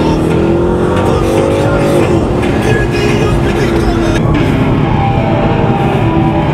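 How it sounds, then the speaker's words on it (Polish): A Ford Mustang 1.6 CNG in a video game, a loud steady engine drone with rising revs and road rumble, playing alone throughout. "Ford Mustang."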